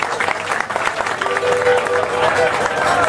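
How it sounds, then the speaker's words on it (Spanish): A live audience applauds a singer at a Cuban music performance, dense and loud crowd clapping that swells and holds steady, with voices mixed into the noise. "aplausos para él"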